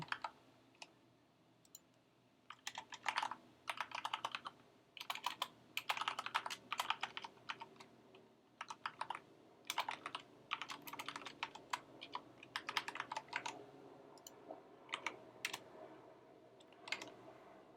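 Rapid bursts of clicking keystrokes on a computer keyboard, typed in irregular runs with short pauses, fairly quiet and close with no talking.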